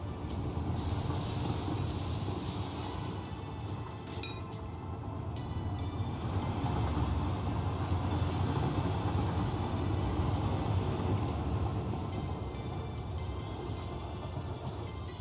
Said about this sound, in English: Waiting for this poor train to get here.